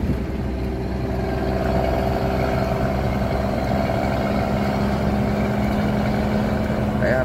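A deep, rumbling engine of a P340 truck with a straight-pipe exhaust drones steadily throughout, a low throaty idle heard from close by with no breaks.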